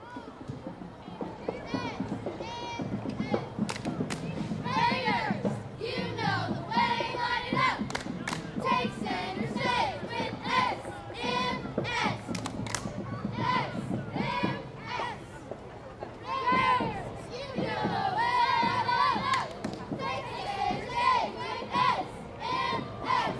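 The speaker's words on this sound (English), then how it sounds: "They'll do a cheer for us here." Southridge Middle School cheerleaders perform a cheer during a street parade, their shouted chant-like voices rising in bursts over a continuous crowd murmur with claps and knocks, loud and close.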